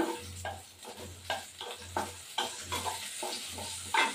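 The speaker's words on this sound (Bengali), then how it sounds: "একটু নাড়াচাড়া করতে হবে সমানে।" Fish curry with tomato and coriander being stirred in a frying pan, a close series of rhythmic scraping strokes, about six evenly spaced, over a soft sizzle.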